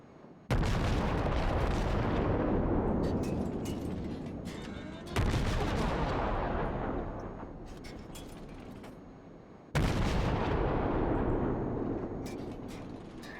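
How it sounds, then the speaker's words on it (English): Rapid naval gunfire from American destroyer guns in a warship video game, three loud salvos of booming shots each trailing off into rumble, with steady sustained volume between bursts. "this is one of the things I like about the American destroyers, is the rate of fire"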